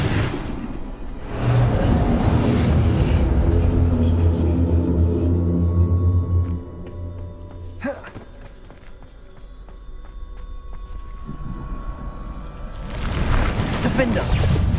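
Booming Bombarda spell blasts from Hogwarts Legacy, a heavy rumbling explosion that swells and rolls for several seconds, then a sharp crack and a quieter stretch before another loud surge near the end, amid busy game noise.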